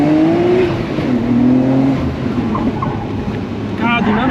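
Loud, close engine note from a Nissan Skyline GTR R33 on a hot lap, rising then dropping in pitch as it shifts and pulls again, under a continuous rushing roar.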